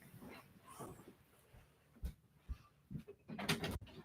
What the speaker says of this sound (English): one of my dogs wants to come in